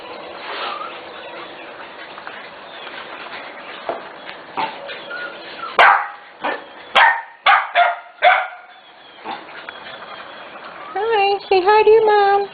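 Close, sharp barks and high yips from corgi puppies in short bursts, separated by silent gaps, with a person talking softly at times and squealing whines near the end.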